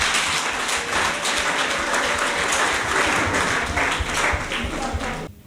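An audience applauds in honour of a distinguished husband at a public gathering; loud, continuous clapping holds steady, then cuts off abruptly at the end.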